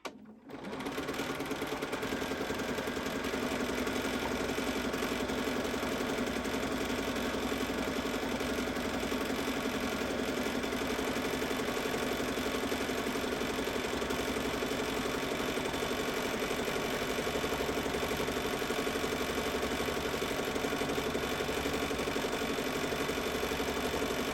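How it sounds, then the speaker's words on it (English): A sewing machine runs continuously, a steady rapid mechanical whir of stitching that stays loud and even throughout, with no talking. "I was hoping that would eliminate a little bit of the sewing machine noise"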